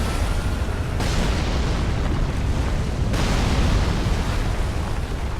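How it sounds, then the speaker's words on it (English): A giant ballista fires in Dark Souls 3, heard as a loud, sustained roaring boom of broadband noise that stays steady for several seconds with no talk over it. "that's a giant ballista. That is shooting at us."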